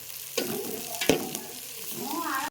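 Chopped dill greens with onion and green chili fry in a pan, giving a soft, constant sizzle punctuated by a couple of sharp spatula scrapes as they are stirred.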